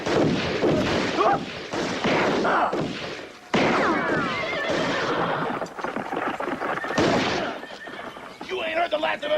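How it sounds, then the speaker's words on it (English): A horse whinnies and neighs loudly in a Western town scene, with shouted voices and hoofbeat-like thumps mixed in across the clip. "Whoa, horsey, whoa, whoa, whoa."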